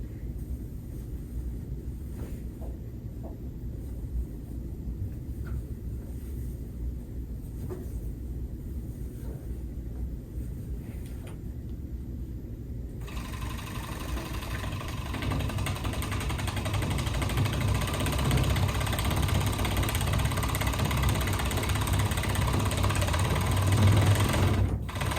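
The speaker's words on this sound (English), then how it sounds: "You can serge those pieces separately." A serger hums continuously as it stitches slipcover cushion pieces, running steady and close, then growing louder and fuller partway through as the machine speeds up, with no talking.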